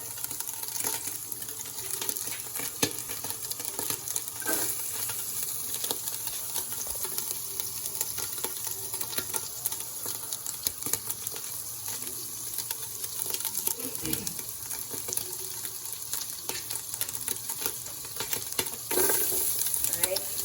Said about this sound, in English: Add that onion and garlic into the pan.